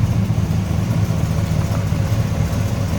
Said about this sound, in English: Smooth runner, and again, remember, small block Chev, turbo 400, automatic transmission combo